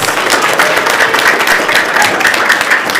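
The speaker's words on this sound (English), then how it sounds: "Can we give Monroe our biggest applause yet?" Loud, dense audience applause at a Battle of the Books competition, with many hands clapping steadily and a faint crowd murmur underneath.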